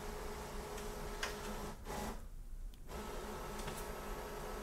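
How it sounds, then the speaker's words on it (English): An Epson WorkForce Pro WF-4820 printer scans pages automatically one by one, giving a steady mechanical whir with faint ticks and a brief pause partway through, close by with no talking. "And the printer will take all the pages one by one. Do not touch anything. It will scan automatically."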